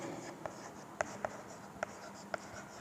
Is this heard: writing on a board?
yes